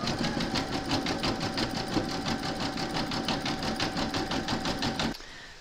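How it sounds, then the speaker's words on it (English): Embroidery machine zigzag-stitching around the raw edges of an appliqué parrot, a fast, even rhythmic whirring and tapping that runs close and steady, then stops abruptly near the end. "you're now going to stitch round number 6, and that's going to do the majority of the zigzagging around the raw edges"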